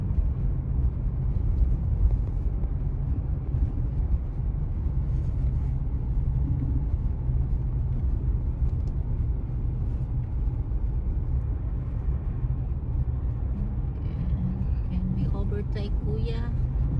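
A car driving along a rural road near San Juan, Batangas, a steady loud interior engine and road rumble that runs unbroken throughout.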